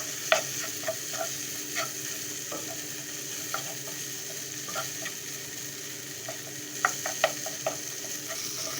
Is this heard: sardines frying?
yes